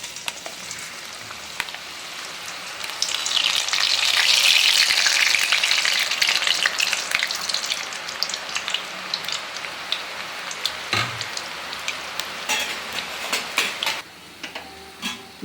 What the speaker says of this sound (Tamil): எண்ணெய் நல்லா காஞ்சிட்டு இப்போ ரிப்பன் பக்கோடா போட வேண்டியது தான்